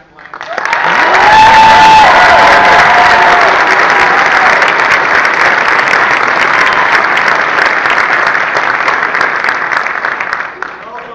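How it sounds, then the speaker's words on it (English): Sustained applause from a large audience at a military basic-training graduation ceremony at Fort Leonard Wood, loud and dense, swelling quickly and holding steady for several seconds before tapering off. "Now we start by giving a big round of applause to Privates Mahaney and Neal for stepping out here to sing our national anthem."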